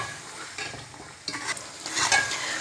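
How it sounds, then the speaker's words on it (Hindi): Potatoes and peas fry in a pan while being stirred, a close, steady sizzle with repeated scraping and clattering strokes of a spatula that grow busier toward the end. "आलू और मटरों को तकरीबन 5 मिनट तक भूनेंगे"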